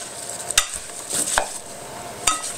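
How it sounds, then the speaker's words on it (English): A wooden spoon stirs apple pie bar filling in a bowl, giving a few scraping, knocking strokes against the side at an uneven pace, close and fairly quiet, with no talking. "let me get a wooden spoon. I'm going to give this a good stir"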